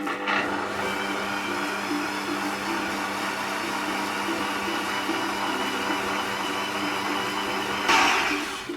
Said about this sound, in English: We're just gonna mix that until we can't see the sugar anymore, so literally a few seconds.